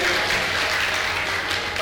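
An audience at a Maghi Ganesh festival programme in a Ganpati temple bursts into loud, dense applause that holds steady for a couple of seconds.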